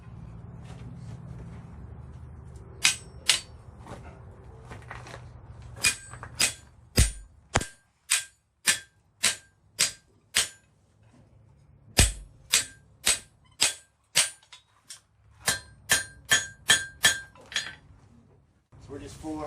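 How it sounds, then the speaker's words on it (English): A blacksmith hammers a bar on an anvil, fullering it down while making a colonial candleholder. About twenty sharp, ringing metallic strikes come in rhythmic bursts with short pauses, over a low forge hum. "We're just fullering that down just a little bit."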